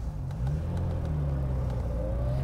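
A classic Italian V12 car, freshly repaired and running on all twelve cylinders again, accelerates on the road. The engine note rises smoothly and loudly with a strong, close, continuous drone.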